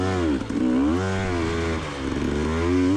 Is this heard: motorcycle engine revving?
yes